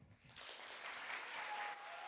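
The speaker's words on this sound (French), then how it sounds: "Je vous demande d'applaudir Munimix." A crowd breaks into sustained applause at a young-talent music showcase in Vincennes, a dense wash of clapping that holds steady, heard from a slight distance.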